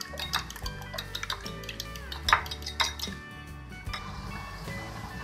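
Eggs being beaten with black pepper in a bowl: quick clinks and scrapes of a utensil against the dish, soft and close, in uneven bursts.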